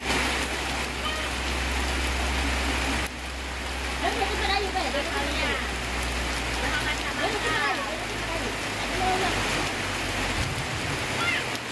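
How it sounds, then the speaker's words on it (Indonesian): Steady rain falls on a surface as a dense, continuous hiss throughout, with voices talking faintly beneath it. "Lahai kena hujan."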